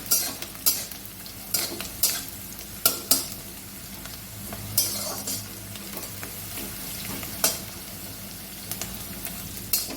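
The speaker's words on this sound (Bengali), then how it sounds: "পেঁয়াজ রসুন লঙ্কাগুলো আমার সুন্দর করে ভাজা হয়ে গেছে" Onion, garlic and chili fry in oil in a pan for greens, a continuous close sizzle broken by repeated sharp scrapes and clinks of a spatula stirring against the metal, with no voices.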